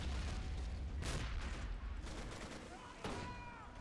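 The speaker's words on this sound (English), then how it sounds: "This mortar is just doing danger close right now. He's almost dropping it on himself." Mortar fire and explosions in the video game Men of War, during an amphibious landing under coastal defense in North Africa, give a dense rumble with several sharp blasts and crackling gunfire, loud and continuous.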